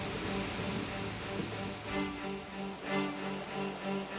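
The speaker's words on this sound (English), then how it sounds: "The rain begins and doesn't stop." Heavy rain pours steadily during a storm over the Mississippi River, a dense continuous hiss with soft rolling swells, under a low tonal hum.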